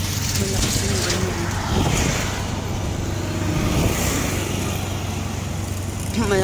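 Vehicles roar past on a busy road, a continuous loud rumble of car and truck traffic close by, with voices talking over it.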